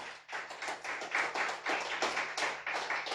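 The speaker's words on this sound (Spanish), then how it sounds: "Dele fuerte aplauso al Señor." A church congregation claps for the Lord in rhythmic unison, quick regular beats repeating steadily for several seconds at moderate volume with no talking.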